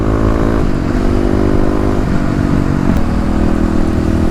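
A 2018 Kawasaki KLX351 with EFI accelerates hard in a 0-60 mph run. Its engine note climbs steadily through the gears with a brief dip at a shift, loud and close throughout with no talk.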